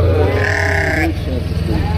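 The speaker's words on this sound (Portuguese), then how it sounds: "como tá as suas ovelhas aqui, seus borregos?" Sheep and lambs at a livestock fair for sheep and goats in Águas Belas, Pernambuco, give a loud close bleat over a busy, noisy outdoor background.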